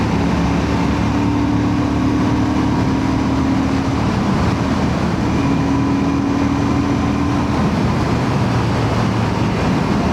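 A Royal Enfield Classic 650 motorcycle rumbles steadily while being ridden, a loud continuous engine drone with wind noise and no talking.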